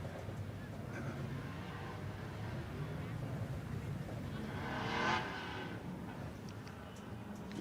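Race cars circle the track at the RAC TT celebration race, front tyres spinning to warm the rears. Their engines make a steady, fairly distant drone that swells briefly as a car passes, with no talking.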